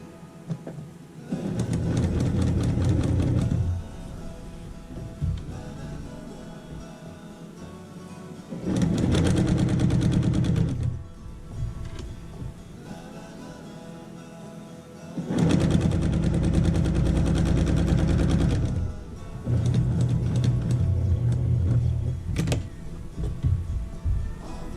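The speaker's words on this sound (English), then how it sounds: "I am going to stitch in the ditch now and quilt it on top" A sewing machine quilting a table runner with stitch-in-the-ditch lines, running in long steady bursts of rapid, close, buzzing stitching that are broken by short pauses and slower stretches, with no talk.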